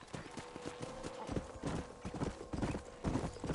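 In Red Dead Redemption, a horse's hooves clip-clop at an even, steady pace, close and fairly quiet, against a soft ambient background.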